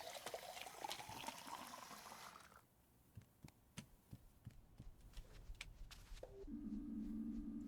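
In a video game, water pours from a tap as a bright rushing stream for a couple of seconds and then cuts off. Faint drips and clicks follow, and a low droning tone rises near the end.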